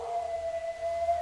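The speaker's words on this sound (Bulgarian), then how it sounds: "Кучето пак вие." A dog howls in one long, steady, mournful tone held through the whole moment, fairly clear against a quiet outdoor background.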